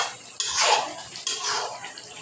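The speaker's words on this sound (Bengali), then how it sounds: "নাড়াচাড়া করে নেব।" Cooked vegetable curry being stirred in a pan, two scraping, sizzling strokes in close succession, loud and near, with no voices.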